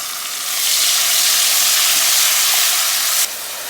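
Chopped tomato and cumin seed fry in a pan with a loud, steady sizzle that swells after a moment and holds, then drops slightly near the end, with no talking over it.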